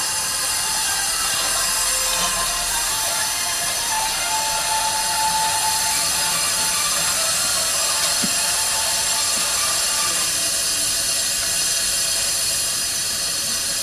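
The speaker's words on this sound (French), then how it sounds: "mettre en marche l'appareil et on va aspirer ici le vieux produit" A radiator coolant service machine runs steadily while pumping old coolant out of a car's system, a constant mechanical hiss and hum with faint ticks, unchanging throughout and with no talk.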